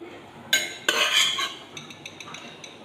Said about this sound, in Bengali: চামচের সাহায্যে কড়ার মধ্যে ঢেলে দিচ্ছি।